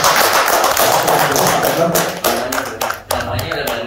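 A crowd applauds at a hypnosis show where a doctor is on stage, the clapping dense and loud throughout, with a brief dip near the end and voices mixed underneath.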